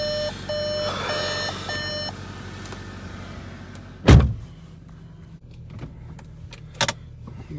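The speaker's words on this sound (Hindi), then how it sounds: "लो जी वर्टस भी भाई स्टार्ट पे लगा दी हमने।" A Volkswagen Virtus in Ladakh starts up. A few dashboard chime beeps come first, then a short, loud crank catches into a low, quiet idle, with a brief clunk or two afterward.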